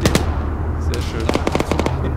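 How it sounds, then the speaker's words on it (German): Gunfire in the video game ArmA 3 shooting through a wall: sharp bursts and single cracking shots scattered over a constant low rumble, with voices talking over it. "der schießt hier wirklich durch die Wand durch"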